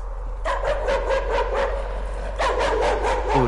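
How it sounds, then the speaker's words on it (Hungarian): A dog in the horror video game Layers of Fear barks in two bursts of rapid repeated woofs, loud and near over a low steady hum. "Oda néz, a kutya ugat a képen."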